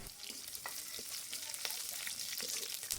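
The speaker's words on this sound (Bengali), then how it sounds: "এগুলো একটু খুব ভালোভাবে নাড়িয়ে লাল লাল করে ভেজে নিতে" Onion, cumin seeds, chopped garlic and ginger fry in hot oil, giving a steady, close crackling sizzle with a few stirring scrapes and no voices.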